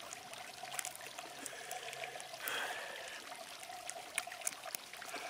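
Bottled water pouring into a container for an MRE beverage mix, a faint, thin trickle with a brief stronger gush midway and small splashes and clinks, quiet and close with no talking.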